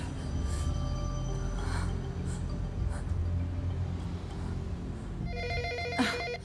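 A telephone bell rings in repeated tonal bursts under ongoing background noise, with a louder, clearer ring near the end; no one speaks over it.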